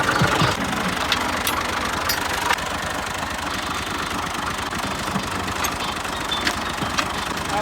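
A tractor engine runs steadily throughout, with a continuous knocking diesel idle, near and fairly loud, as the tractor is fitted with an implement for partition work.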